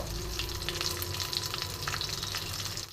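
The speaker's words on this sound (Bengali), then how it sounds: "তো ভালো মতন আমি ফোড়নটা ভেজে নেব" Mustard seeds, radhuni, curry leaves and slit green chilies sizzle steadily in hot oil in a wok, a close, dense crackling fry with small pops throughout and no voices.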